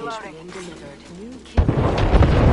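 Gunfire from enemies in Apex Legends erupts suddenly after a brief spoken line, turning into a loud, dense barrage of overlapping shots and booming impacts that continues to the end.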